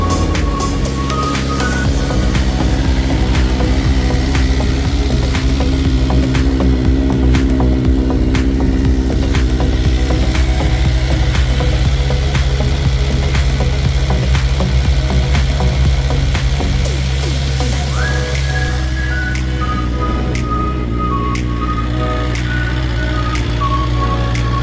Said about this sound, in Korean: 맨 처음 시동 걸면은 얘가 예열을 해주기 위해서 RPM을 왕 하고 위로 올려주는데